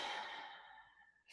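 A slow, deep breath out during a mindfulness exercise, close and soft, fading away over about a second with no talking.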